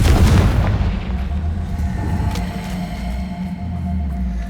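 A Confringo fire spell explodes in Hogwarts Legacy gameplay, a loud booming blast that hits at once and then rumbles and decays over several seconds with no speech.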